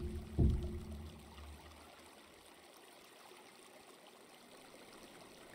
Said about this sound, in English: there's some water coming in already